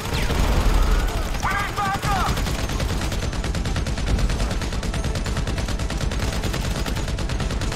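Rapid automatic gunfire crackles continuously in GTA V during the Pacific Standard heist, a dense, loud burst of shots with a brief electronic beeping early on, while a player talks over the action.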